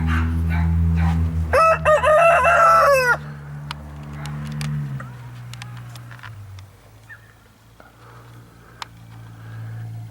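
A ten-month-old rooster crows once loudly and close by, with clucking hens and a low steady hum of farm background around it before things settle.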